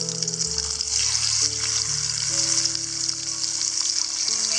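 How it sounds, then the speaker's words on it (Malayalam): Masala-coated fish fries in a pan of hot oil, giving a loud, dense, continuous sizzle that holds steady throughout with no voices over it. "ഇപ്പോൾ ഞാൻ മീൻ പൊരിക്കാൻ പോവാണ്"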